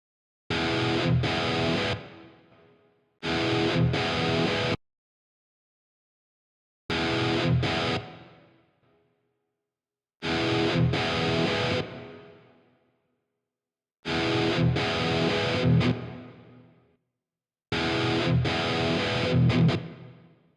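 Distorted electric guitar playing a chugging rhythm part through the Archetype Nolly X amp plugin with reverb, six separate loud bursts with silent gaps, each ending in a short reverb tail.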